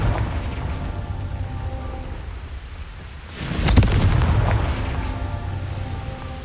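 A Confringo blasting spell explodes in the Hogwarts Legacy video game, a sudden loud boom that swells and rumbles for a couple of seconds over a steady background of ambient game noise.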